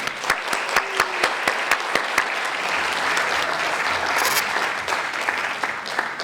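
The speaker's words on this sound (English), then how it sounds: "Another round of applause for Larry Humison." Audience applause fills a staff recognition reception, steady sustained clapping from a crowd in a hall with a few sharper individual claps standing out near the front, no talk over it.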